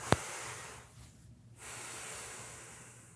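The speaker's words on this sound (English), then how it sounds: "or the option where I breathe through my nose" A person breathes through the nose near the mic, a sharp click at the start followed by a long hissing inhale, a brief lull, then a steady airy nasal exhale, with no talking.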